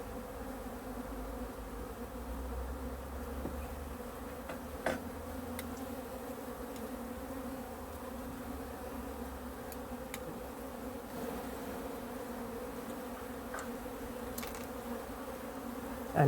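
Honey bees at a beehive make a dense, continuous buzz close by, steady throughout with faint ticks and knocks underneath.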